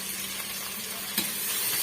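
Gravy ingredients sautéing in a pan for an Aadi 18 mutton recipe, a brief steady sizzle close up with a single stir or scrape midway, no voices.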